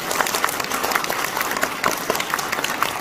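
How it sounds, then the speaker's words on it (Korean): Party members and supporters applaud at a Democratic Party talk concert in Busan, a steady mid-level wash of clapping from a hall audience with scattered sharper claps, no speech over it. "박수 한번 드려주시죠."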